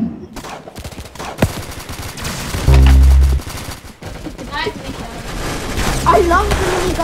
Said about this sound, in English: I love the mini gun!